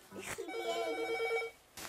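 A telephone rings indoors with a bright, sustained electronic trill lasting about a second, close by, with brief voices just before and after it.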